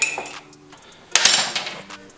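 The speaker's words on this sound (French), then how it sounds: "faut que je vide le lave-vaisselle" Dishes being unloaded from a home dishwasher: a few clattering clinks of plates and cutlery, one sharper knock and rattle in the middle, close by.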